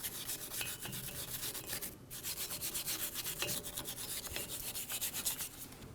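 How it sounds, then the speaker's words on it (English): A wire brush scrubs the rear hub surface of a 2009-2014 Ford F-150 during a brake job. Its rhythmic, rasping strokes run steadily for several seconds at close range, with no talking. "Now we can clean up our hub surface before mounting our new rotor."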